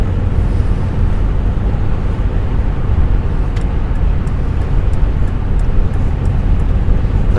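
Steady, loud low-frequency road and engine rumble from traffic on the A2 dual carriageway between Whitfield and Canterbury, with a BMW passing at about 65 mph; continuous broadband roar with wind buffeting and no talk.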